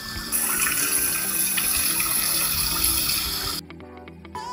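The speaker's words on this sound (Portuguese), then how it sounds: "com duas quedas d'água e é de água corrente que vem do rio" Running river water flowing over small waterfalls, a continuous dense rushing wash that holds steady, then cuts away abruptly near the end to quieter sounds.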